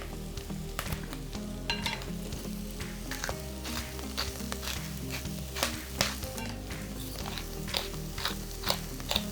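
Baby clams frying in a pan give a steady, close sizzle with scattered sharp pops and crackles throughout, plus an underlying low hum.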